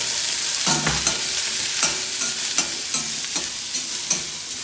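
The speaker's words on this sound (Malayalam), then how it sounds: "ചെറുതായി മുറിച്ച് 3 നീരുള്ളി. ഉള്ളി നന്നായി വാടട്ടെ." Finely chopped shallots frying in a hot pan for a Kerala beef bone curry, a loud continuous sizzle broken by repeated rhythmic stirring scrapes, no talk.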